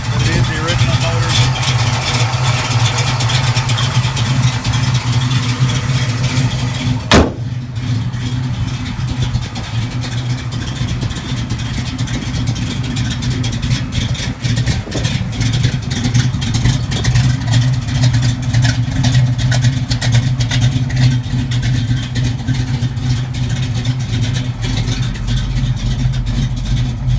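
A 1969 Chevrolet Camaro's original, chromed and built V8 engine idles at about 800 RPM, a loud, steady low rumble close by that continues without a break, with a brief sharp click early on.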